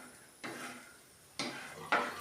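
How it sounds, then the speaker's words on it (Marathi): Pigeon pea seeds dry-roasting on a hot griddle and being stirred: three short, soft scraping and rattling bursts with quiet gaps between them, all fairly faint. "सर्व बियांना चांगलं व्यवस्थित फिरवून आपण चांगलं भाजून घेऊया."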